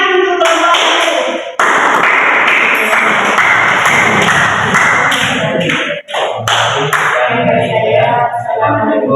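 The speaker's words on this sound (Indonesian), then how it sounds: "Beri tepuk tangan untuk kelompok itu." A classroom group of students gets a burst of clapping after presenting a lesson on heat transfer, loud and close, sustained applause with a couple of brief dips, voices mixed faintly underneath.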